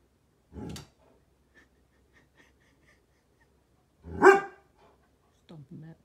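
A dog barks twice, short sharp barks several seconds apart, close and loud, with faint tapping between them and a voice speaking briefly at the end.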